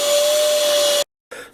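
A work vac shop vacuum whines loud and steady with a sustained tone, cuts off abruptly into silence, then starts up again briefly at the end.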